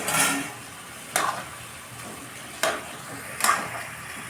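Rice and red lentils sautéed in a pan with slit green chillies for khichuri, a gentle continuous sizzle broken by three sharp scraping stirs spaced a second or so apart.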